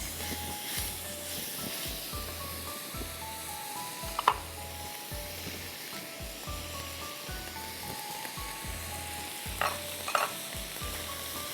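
Vegetables sizzle steadily in a hot pan while a spatula stirs them with a regular scraping rhythm and an occasional sharp clink.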